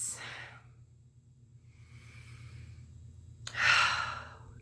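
Slow, deep breaths close to the microphone, a long exhale at the start, a softer breath in the middle and a strong, audible breath near the end, no speech.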